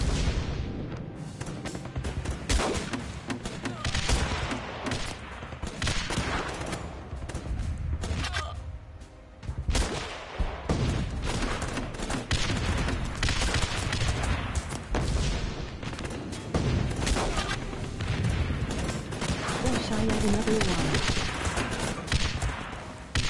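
Video game firefight with rapid gunfire and heavy grenade launcher shots, a loud, dense barrage of overlapping bursts and booms that runs almost without pause, with a brief dip partway through.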